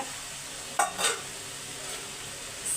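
Vegetables for sambar sauté in a pan with a steady low sizzle, broken by a couple of brief scraping stirs near the start.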